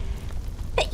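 Mococo sneezes twice in quick succession near the end, a sharp burst and then another, after a stretch of low, quiet background murmur.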